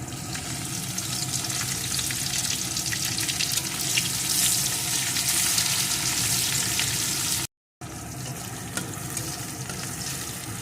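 Chopped onion dropped into hot oil with crushed garlic, frying with a loud, dense, continuous sizzle up close, broken by one brief gap, with no talk.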